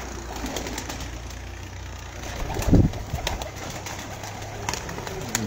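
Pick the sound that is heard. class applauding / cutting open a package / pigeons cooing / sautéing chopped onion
pigeons cooing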